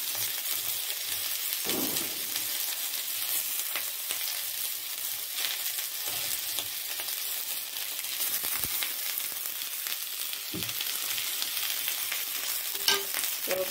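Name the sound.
frying dried fish chutney with ginger, garlic, green chilli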